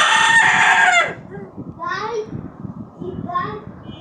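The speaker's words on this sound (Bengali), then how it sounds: "আর এই হলো মোরগটা এখানে বসে আছে" A rooster sitting in a sunny yard crows loudly and close for about a second, followed by softer clucking and bird calls while a voice chatters nearby.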